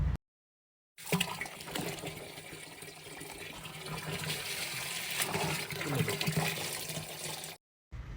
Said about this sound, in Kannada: ನಾನೀಗ ಒಂದು ಅರ್ಧ ಟ್ರಮ್ ನೀರು ತುಂಬಿಸ್ಕೊಂಡಿದ್ದೀನಿ ಅದಕ್ಕೆ ಹಾಕಿ ಕ್ಲೀನಾಗಿ ಮಿಕ್ಸ್ ಮಾಡ್ತೀನಿ